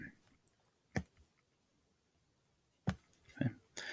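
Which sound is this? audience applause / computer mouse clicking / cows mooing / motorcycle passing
computer mouse clicking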